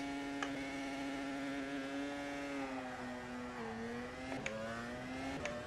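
A Formula 1 car engine revs hard and steadily during a two-paddle, two-stage clutch start, its sustained droning pitch dipping slightly and rising again, with a few sharp clicks over the loud, continuous tone.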